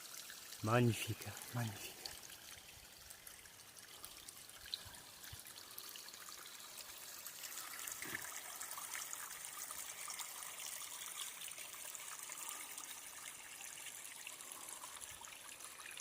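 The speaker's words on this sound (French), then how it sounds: "Et l'eau qui coule là." Water trickles and flows steadily in a forest, a soft continuous babble heard close but faint, with a voice speaking briefly at the start.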